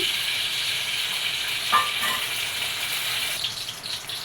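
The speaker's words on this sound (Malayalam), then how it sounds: "ഒരു സ്പൂൺ നെയ്യ് ഇട്ട് കൊടുത്തിട്ടുണ്ട് അതിലോട്ട് ലേശം കടുകും ലേശം വെന്തയും ഇട്ട് കൊടുക്കാം" Steady hot-oil sizzling of mustard and fenugreek seeds in coconut oil and ghee fills the clip, with a brief sharp crackle partway through; no voices, just continuous frying hiss.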